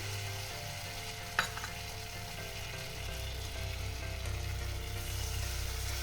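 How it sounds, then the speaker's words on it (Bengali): A paste of ground cashews and raisins, thinned with water, is stirred in a hot pan for a Bengali doi katla fish curry, giving a steady close sizzle with a single sharp clink of the utensil early on. "দিয়ে এটা একটু কিছুক্ষণ নাড়াচাড়া করে নেব"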